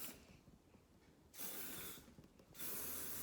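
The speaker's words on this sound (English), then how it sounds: "just give it a good spray" Two close bursts of aerosol hairspray hiss out, separated by a short pause, the second running to the end.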